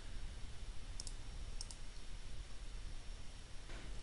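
A computer mouse clicks on buttons in an app, giving two quick pairs of sharp faint clicks over a steady background hiss.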